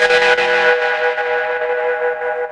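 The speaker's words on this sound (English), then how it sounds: "that is kind of like a blown out spring reverb." Harp run through a blown-out spring reverb and a stereo width pedal, giving a smeared, distorted, echoing wash of plucked notes that rings on loud and alone for a few seconds.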